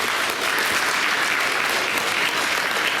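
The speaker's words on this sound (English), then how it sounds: "Let's give them all a big round of applause." Applause from the audience at a school board regular action meeting, a dense, steady burst of clapping that holds at an even, loud level throughout.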